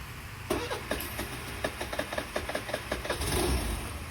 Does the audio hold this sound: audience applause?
no